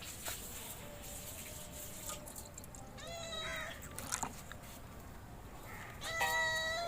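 A cat meows several times in quick, drawn-out calls. The meows are fairly faint and close by, over a quiet background with small rustles.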